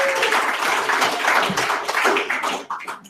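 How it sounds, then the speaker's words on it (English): An audience at a JavaScript meetup claps in a dense, steady patter of applause that thins out toward the end. "let's give her one more round of applause"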